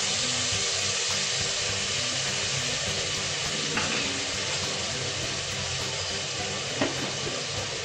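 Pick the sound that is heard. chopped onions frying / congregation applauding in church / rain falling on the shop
chopped onions frying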